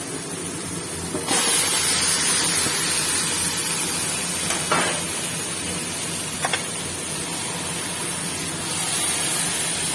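Minced chicken hits hot oil in a pan for patties and sets off a sudden, loud, sustained sizzle, with a few brief clatters of stirring along the way.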